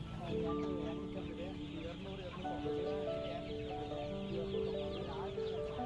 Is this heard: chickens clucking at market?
yes